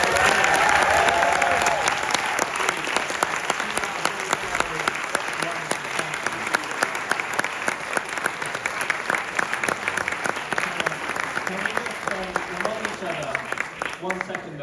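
A premiere audience at a London Q&A for the series Alien: Earth bursts into sustained applause, loud, dense clapping that carries on for many seconds, with a few voices and cheers mixed into the crowd noise.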